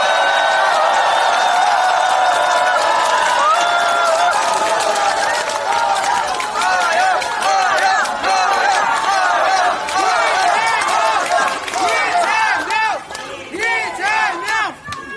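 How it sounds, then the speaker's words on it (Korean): A large crowd at a Democratic Party political rally claps and cheers loudly for the party leader, with shouts and chanting voices rising over the applause. The roar stays strong throughout, easing slightly toward the end. "이재명 대표님을 열렬히 환영하는 의미에서 뜨거운 박수와 함성을 부탁드립니다."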